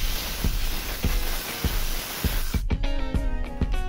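Steady hiss of quick-dry electrical contact cleaner sprayed onto a grounded induction aeration blower motor, a continuous close spray that cuts off partway, leaving a ringing hum and light clicks.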